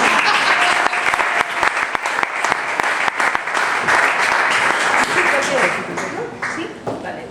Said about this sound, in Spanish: Sí, el aplauso, sí.